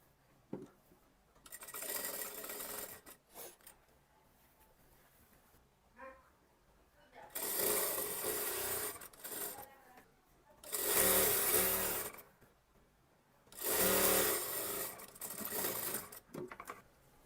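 A sewing machine stitches the lining of an Anarkali kurti in three or four loud bursts of fast, close whirring, separated by quieter stretches where someone talks.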